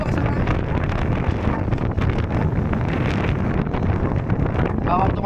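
Strong wind buffets the microphone in heavy, continuous gusts at Monte Maria, with speech partly buried under the roar.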